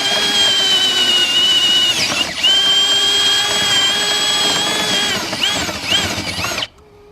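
A Ridgid 18V brushless hammer drill in drill mode at the lowest power setting whines steadily and loudly while boring through material, with a brief dip partway and a few pitch wobbles before it abruptly stops.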